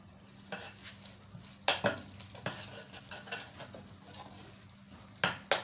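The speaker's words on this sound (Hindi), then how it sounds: "अब इसमें ये लाइट सा छिंटा लगाऊंगी। ये गोश्त की यखनी है" Masala for Peshawari desi murg karahi sizzling in a pan as meat stock is splashed in, with a low steady fry punctuated by sharp stirring clatters and scrapes, close and quiet, no talk.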